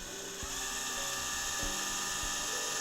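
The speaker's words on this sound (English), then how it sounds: "Slowly drilling." A power drill slowly works through a plastic CD case, giving a steady high whine with a few periodic clicking catches as the bit turns.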